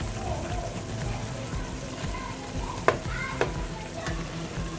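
Guinea fowl pieces go into a simmering pistachio sauce, giving a steady low bubbling sizzle with a few sharp clinks and splashes near the middle, and faint voices murmur underneath.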